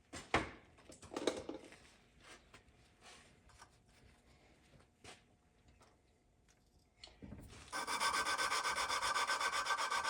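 Hand lapping of an engine valve seat with lapping compound on an E7 cylinder head, heard as repeated close gritty rubbing and twisting strokes, quiet at first and then a steadier, louder grinding rasp toward the end.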